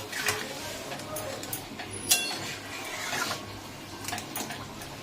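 Chicken and spices being sautéed in a pan for chicken biryani, soft scraping and occasional metallic clinks of a spoon against the pan, fairly quiet with faint background hum, no talk.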